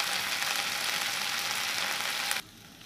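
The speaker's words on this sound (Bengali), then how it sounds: "এগুলোকে আমি ভালো করে ভেজে নেব যাতে কাঁচা স্মেলটা না থাকে" Ginger-garlic paste frying in a pan for shrimp malai curry, a steady close hiss of sizzling that stops abruptly near the end, no talk.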